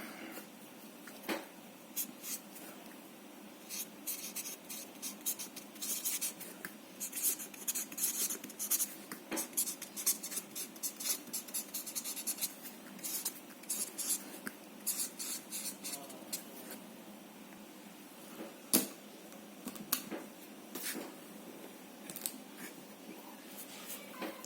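Pen writing notes by hand on paper during an electrical engineering lesson on corona in transmission lines; steady close scratching strokes with frequent short taps and pauses, continuous throughout with no talk.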